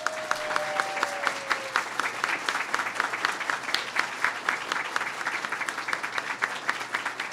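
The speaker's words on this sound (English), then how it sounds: "Give them a big round of applause." Embassy staff applaud a visiting president and first lady at the embassy in Cuba, steady clapping from a sizable indoor crowd that stays loud and continuous throughout.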